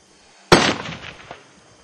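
A single sharp report from a 22-250 rifle fitted with a muzzle brake cracks loud and near, then rolls off in a decaying echo across an outdoor range, with a faint secondary thump as it fades.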